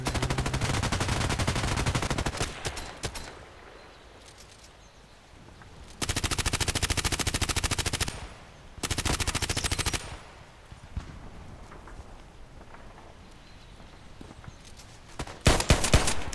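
HK USP pistol fire in the shooter game Contract Wars, heard as loud bursts of gunfire at about 0, 6 and 9 seconds, with quieter stretches of game ambience and footsteps between them and a sharp report near the end.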